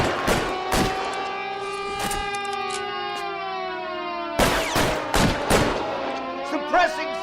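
Gunfire in the video game L.A. Noire, several sharp bursts of shots cutting through a sustained wailing siren, loud and close, with bursts bunched near the start and again in the second half.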